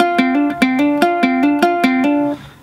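A ukulele plays the lead break of a song alone, about ten crisp plucked notes in a steady bouncy rhythm that ring clearly and then fade out.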